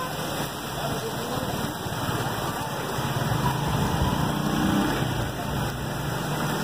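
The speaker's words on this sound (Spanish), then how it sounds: "en plena lluvia." Steady rain falls in the main square of Piura, Peru, a constant hiss mixed with low engine rumble and general town noise.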